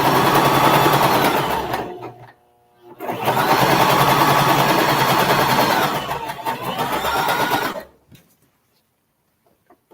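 A sewing machine runs steadily while stitching a quarter-inch seam on a quilt block, loud and close, in two long bursts separated by a brief pause before it stops.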